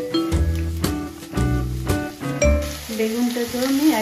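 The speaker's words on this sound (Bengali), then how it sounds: "বেগুনটাকেও আমি একইভাবে ভেজে নেব।" Eggplant pieces fry in mustard oil in a wok, a soft sizzle under strong tonal, music-like sounds, with the hiss turning broader and more noticeable toward the end.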